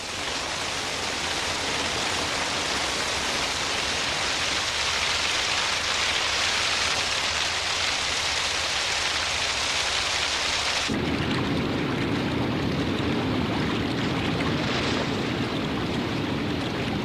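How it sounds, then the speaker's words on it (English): Heavy rain pours down in an African rainforest during an Atlantic storm, a dense, loud, continuous hiss with rumbling thunder, shifting to a deeper, heavier downpour partway through. "Storms sweep in from the Atlantic, bringing Karup some of the heaviest rainfall in the world"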